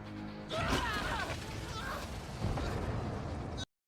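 A sudden explosion bursts out after half a second of quiet in the action film Alien vs Ninja. It is followed by a dense, rumbling crash, then a second swell of blast and debris noise that cuts off abruptly.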